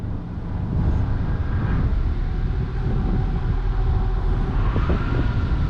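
A car engine hums and revs in low rumbling swells while the vehicle backs up, steady and close, with faint thin tones above and no speech.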